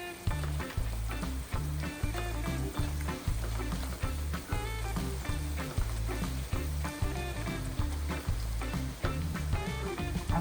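Chopped onion with a quarter teaspoon of pepper powder frying in a pan for a Peshawari chicken, a steady close sizzle with rhythmic stirring scrapes and clatter running throughout, no talking.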